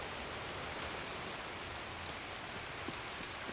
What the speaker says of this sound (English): It is really loud, but that's just Tarkov rain for you.